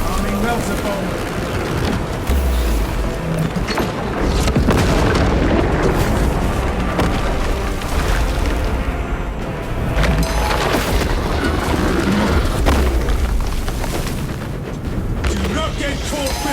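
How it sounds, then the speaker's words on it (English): Heavy, booming explosions from a melter bomb in the Warhammer 40000: Space Marine 2 video game, loud and continuous within dense battle noise and rumbling impacts throughout. "Arming melter bomb."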